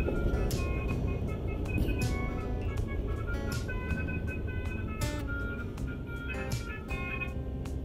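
A musical telolet truck horn plays a melodic tune over steady traffic noise, with engines rumbling nearby throughout.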